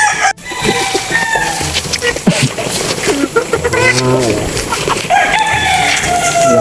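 Chickens of a new breed on a farm clucking and crowing loudly and close by, with a rooster's call rising over steady fowl chatter and people talking in the background.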